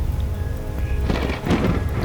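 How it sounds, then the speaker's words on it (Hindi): Loud thunder rumbles and crashes over a steady roar of heavy rain in a sudden storm with lightning, building to a strong swell midway and continuing without any voices. "तभी अचानक आसमान में बिजली चमकी और जोरदार बारिश शुरू हो गई"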